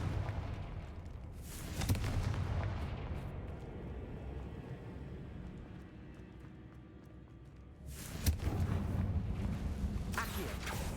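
Confringo fire-spell blasts in the Hogwarts Legacy video game erupt as two booming bursts several seconds apart, each followed by a rumbling roar over a lower background of game sound.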